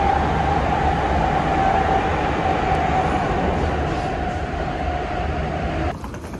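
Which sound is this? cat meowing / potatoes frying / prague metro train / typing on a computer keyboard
prague metro train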